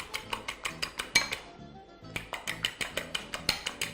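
A whisk beats a spiced mixture for a vegetable chapati wrap, clinking briskly and rhythmically against the bowl, with a short pause before the strokes start again. Nobody speaks.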